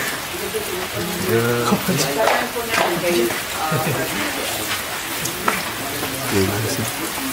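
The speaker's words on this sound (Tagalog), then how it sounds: "medyo umuulan pa po" Steady rain patters throughout while a person talks over it.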